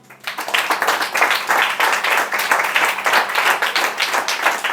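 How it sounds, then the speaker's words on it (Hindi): A church congregation claps loudly and steadily for several seconds in a dense burst of applause, with no talking over it. "यीशु के लिए जोरदार तालियां बजाएं।"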